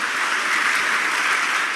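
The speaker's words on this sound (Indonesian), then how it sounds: "Beri tepuk tangan yang meriah buat Tuhan." A church congregation applauds during a sermon, a loud, dense and even roar of clapping that fills the whole stretch without a break.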